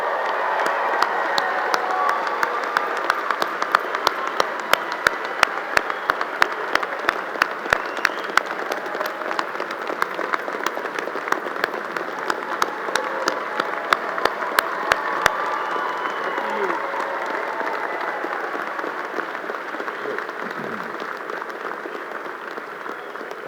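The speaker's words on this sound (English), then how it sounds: "Let's give them all a round of applause." Sustained applause from a large graduation commencement crowd after the tassel turn, a dense steady wash of clapping with sharper individual claps standing out early, holding at an even level for the whole stretch.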